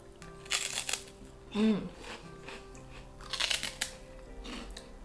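Hawaiian shrimp chips crunch in bursts of crisp bites and chewing close to the mouth, a few separate crackly clusters spread over a few seconds, with a brief murmur of voice in between.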